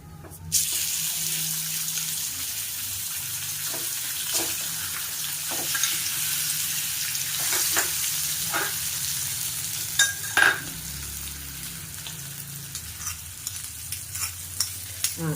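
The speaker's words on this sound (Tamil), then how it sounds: "இப்போ இதை வந்து நம்ம நல்லா வதக்கிக்கலாம்." Sweet potato sautéing in ghee over low heat gives a soft sizzle with sharp spoon scrapes and clicks against the pan, the stirring growing busier toward the end.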